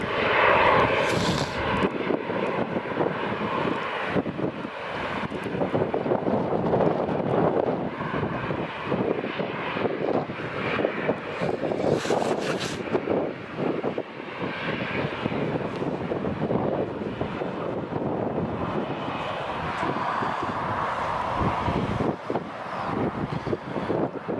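A Corendon Airlines Boeing 737 MAX arrives at Newcastle Airport with a loud, sustained jet engine roar, rising and falling as it passes, mixed with gusting wind buffeting the microphone outdoors.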